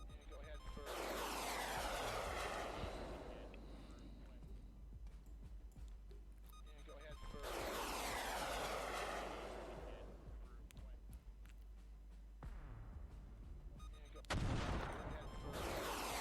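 Jet aircraft taking off in the naval warfare simulation game Command: Modern Operations, heard as loud roaring rushes with descending whine, two long bursts and a sharp blast near the end, no talk.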